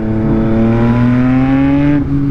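Yamaha MT-09 motorcycle engine revving loudly and close, its pitch rising steadily for about two seconds before the throttle drops back, with no talking.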